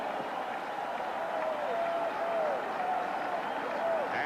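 Vocal UCLA Bruins fans in a stadium crowd at the 1984 Fiesta Bowl against Miami: a steady, broad roar of cheering and applause holds throughout, with a few louder swells and whistles rising out of the din.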